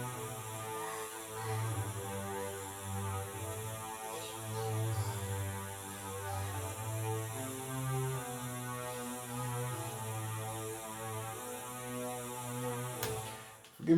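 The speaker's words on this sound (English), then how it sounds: "It's just basically like a little buzz" A quiet, buzzy synth lead that pans side to side plays sustained, shifting tones over a low hum in a beat breakdown, with a faint click at the very end.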